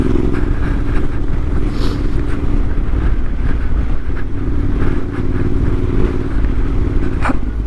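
Wind rushes over the mic as a Yamaha T7 rides off-road, its engine rumbling low and steady beneath the loud buffeting, with occasional rattles from the terrain.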